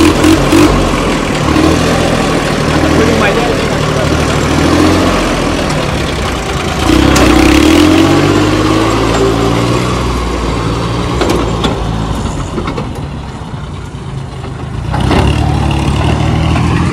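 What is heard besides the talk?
tractor engine running and idling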